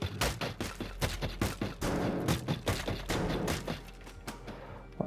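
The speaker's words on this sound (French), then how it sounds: "Donc là, on a explosé le toit." A roof being blown apart in the voxel destruction game Teardown, a volley of sharp blasts and crumbling impacts in quick succession over a low rumble, moderately loud with no talking.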